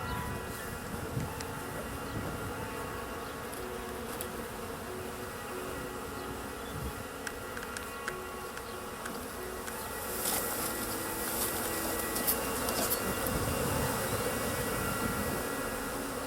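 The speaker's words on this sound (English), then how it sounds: "the swarm's easy to find, even for a novice" A honeybee swarm gives a continuous, fairly faint buzzing drone that holds steady for the whole stretch and swells slightly in the later part, with no talk over it.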